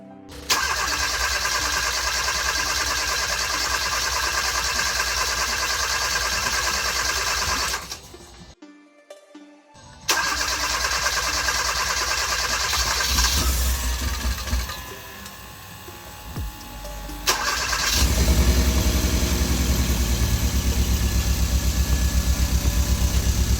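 Hyundai Veloster Turbo checked for a misfire after injector cleaning: engine cranks and starts, settles into a close, loud steady idle, briefly drops out, restarts and idles again, finishing with a slightly louder rumbling stretch.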